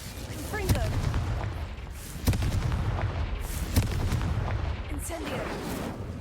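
Confringo blasting curse explosions in the Hogwarts Legacy video game: several sharp booming blasts at irregular intervals over a dense, rumbling background of game noise.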